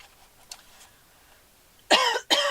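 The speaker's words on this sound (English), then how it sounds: "I'm just coughing there." Two sharp, close coughs in quick succession break a near-quiet background, following a few faint rustles.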